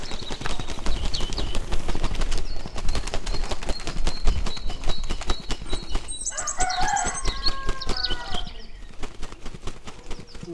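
Rapid, irregular wing flapping and scuffling from a chicken being slaughtered close by, with brief squawks partway through, continuous for about ten seconds.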